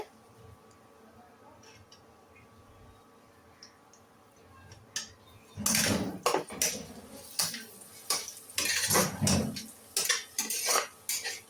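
Onions browning in a pan for a chicken curry, stirred with a utensil: faint at first, then from about six seconds repeated loud metallic scrapes and clinks against the pan in an irregular rhythm, close by.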